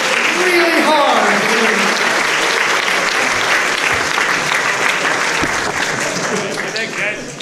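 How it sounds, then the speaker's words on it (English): Loud, sustained applause from a large convention panel audience, many hands clapping steadily throughout and tapering slightly near the end. "give us a round of applause for the interpreters here"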